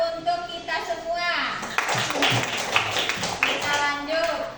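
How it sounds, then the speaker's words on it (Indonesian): Children applaud in a classroom with a series of uneven bursts of close clapping and tapping, while a voice is heard speaking over the applause. "tepuk tangan untuk kita semua"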